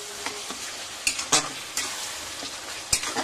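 Masala paste of cardamom, cumin and garlic sizzles steadily in hot oil while a spoon stirs and scrapes the pan, giving a few sharp clacks over the continuous frying hiss.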